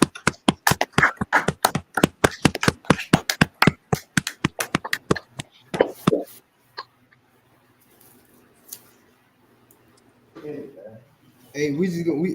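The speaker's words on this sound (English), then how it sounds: "Y'all clap it up." A small group at a law class clapping: a run of sharp, closely spaced claps for about six seconds, then near quiet with a few faint sounds before voices start speaking.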